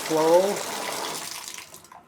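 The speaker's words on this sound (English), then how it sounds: "I'm going to run some water down the drain now." Water running through a slow bathtub drain after a repair, a steady broadband rush that starts strong and gradually thins out, with a brief voice-like tone near the start.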